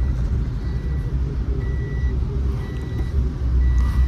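A reversing garbage truck on a Dehradun street sounds its backup alarm, faint repeated beeps riding over a loud, steady low engine rumble for about four seconds.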